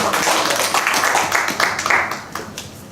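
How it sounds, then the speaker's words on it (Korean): Seminar attendees at a cooperative association event clap in a brief, steady round, fairly close and even, fading slightly toward the end, with talk faintly mixed in. "박수 부탁합니다"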